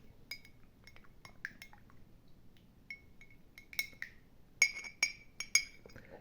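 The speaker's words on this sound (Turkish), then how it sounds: "karıştırıyoruz" A spoon clinking sharply against a glass while stirring honey into hot water, bright irregular taps growing louder and quicker in rapid bursts toward the end.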